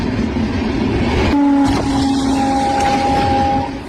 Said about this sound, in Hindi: पीछे से ट्रेन आती है, जबरदस्त टक्कर, ये देखिए टक्कर मारती है और गाड़ी उड़ जाती है